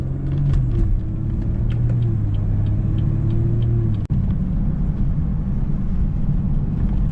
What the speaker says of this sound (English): I think this exhaust sounds way better than the SVR or the F-Type